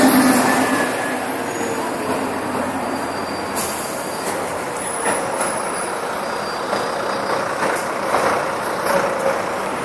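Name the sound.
buses passing on Baker Street, London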